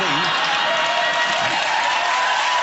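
A television studio audience breaks into loud, sustained applause on a chat show, a dense wash of clapping heard close and continuous throughout, with a voice briefly audible at the start.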